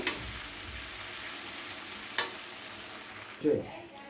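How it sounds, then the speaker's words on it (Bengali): Cashew paste fries gently over a low flame for doi begun, a soft, even sizzle with a couple of isolated spoon knocks against the pan. "কাজু বাটাটা দিয়ে গ্যাসের ফ্লেমটাকে লোতে রেখে খুব ভালো করে কষিয়ে নেব।"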